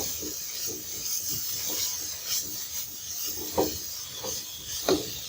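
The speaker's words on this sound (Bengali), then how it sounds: "একদম ভালো করে কষিয়ে নিব।" A spoon scrapes and stirs drumstick curry in a pan, making repeated rubbing, scraping strokes at close range with small clatters between them, and nobody speaks.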